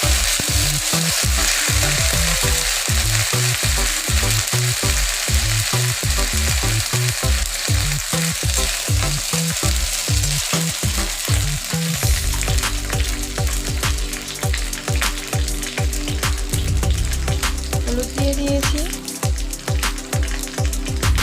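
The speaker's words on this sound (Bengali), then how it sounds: "এবার আদা রসুন বাটা অল্প দিয়ে দিয়েছি ভালো করে তেলে নেড়ে নেবো" Loud, continuous sizzling of ginger-garlic paste frying in oil, with rhythmic scraping and stirring strokes of a utensil against the pan throughout.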